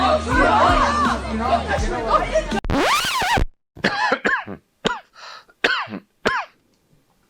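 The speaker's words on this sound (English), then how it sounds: "Got a cough." Chattering voices give way to a series of harsh, abrupt coughs and throat-clearing sounds, spaced irregularly and fairly close.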